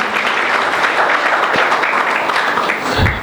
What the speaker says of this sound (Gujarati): તો જોરદાર તાળીઓથી ફરી આપણે એમનું સ્વાગત કરીએ